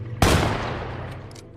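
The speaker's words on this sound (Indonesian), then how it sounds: "Mendengar suara tembakan" A single sharp gunshot cracks out, followed by a long fading echo rolling away.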